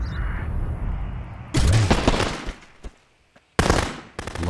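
Rapid automatic gunfire from a weapon in the video game Sniper Elite, loud bursts broken by a brief quiet gap before shooting resumes.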